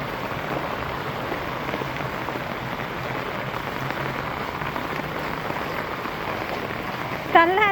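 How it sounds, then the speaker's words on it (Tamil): Heavy monsoon rain pours steadily in Ranipet, a dense, even hiss of drops on surfaces close by, with a brief louder clatter near the end and no voices. "மழை எப்படி பெய்யுது ராணிப்பேட்டையில்"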